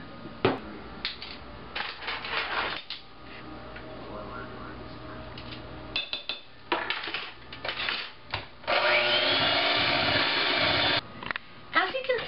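An electric hand mixer whips cream cheese into gelatin in a home kitchen, whirring in uneven bursts that stop and start, with one longer steady run near the end and some clattering between.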